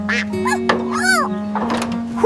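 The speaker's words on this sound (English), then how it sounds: "Harvest day, Ducky. Quack, quack." Cartoon duck Ducky gives a quick run of loud, close quacks and squawks, several short honking calls tumbling one after another in a lively burst.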